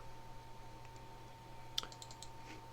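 A single mouse click on a PC saving a setting in Amiga Explorer for a serial cable link to an Amiga 2000, a sharp close tick followed by a few faint clicks over steady hum.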